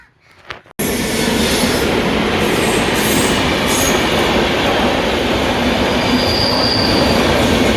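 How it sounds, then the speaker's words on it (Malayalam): After a brief quiet moment, a train bound from Thiruvananthapuram to Lokmanya Tilak rushes past a platform without stopping, a sudden, loud, sustained roar of wheels and carriages with high metallic squeals. "തിരുവനന്തപുരത്ത് നിന്ന് ലോകമാന്യത്തിലേക്ക് വരെ പോകുന്ന വേറൊരു ട്രെയിനാണ്. പക്ഷേ ഇവിടെ സ്റ്റോപ്പൊന്നുമില്ല, അതങ്ങനെ പോയിക്കൊണ്ടിരിക്കുന്നുണ്ട്"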